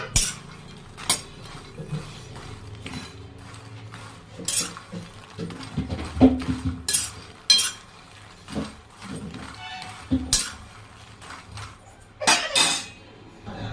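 Maize lightly roasting in a pan, with a metal utensil repeatedly clinking and scraping against it in irregular bursts, fairly close and alone without talk.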